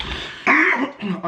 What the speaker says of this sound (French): je tousse depuis avant